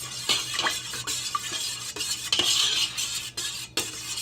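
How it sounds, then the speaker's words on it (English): A metal spoon stirs mango butter body cream in a bowl, producing close, repeated scraping clinks and soft squelching strokes in an uneven rhythm, with no one speaking. "Give it a good mix."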